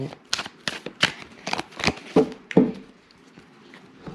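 Tarot cards being shuffled, a quick series of crisp riffling bursts up close, with someone speaking softly over them.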